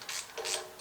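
A ratchet snugging down engine head bolts during a cylinder head install, giving quick short bursts of clicking and rubbing, fairly faint and close, with no talk.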